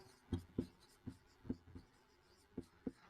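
Pen strokes tap and scratch on paper while a math problem is worked out, a series of short, close, irregular marks with quiet gaps between them.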